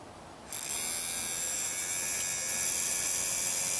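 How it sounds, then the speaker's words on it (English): A revived electric motor with a freshly cleaned commutator starts abruptly and runs with a steady, loud, high-pitched whine and buzz that holds constant to the end. "And then the motor should work."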